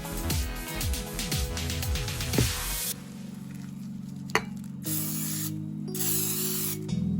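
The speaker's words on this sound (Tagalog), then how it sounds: "Kaya lang, ang gagamitin ko is a spray oil." Spray oil hisses out of a can into a metal llanera mold in a home kitchen, one long spray preceded by clicking handling noises and a sharp tap, close and with no talk.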